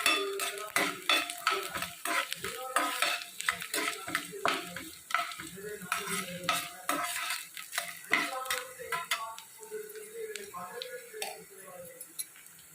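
Dried red chillies and garlic sautéing in a pan for curry leaf thokku, a soft sizzle under busy clicking and scraping of a spoon against the pan, with a voice talking over it.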